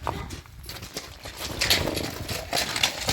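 Percheron horse hooves clip-clop on firm ground in an outdoor yard, irregular steps close by with a dull rhythmic knock amid faint background noise.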